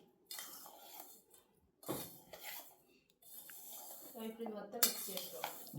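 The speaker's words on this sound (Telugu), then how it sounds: "సో ఇప్పుడు కొంచెం కొంచెం బెల్లం అయితే కలుపుకుంటున్నామండి" Spoon scrapes and clinks against a metal bowl while jaggery is stirred into a kajjikayalu filling, with irregular bursts of scraping separated by short pauses, close and fairly quiet.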